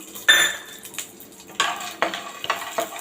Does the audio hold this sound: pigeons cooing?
no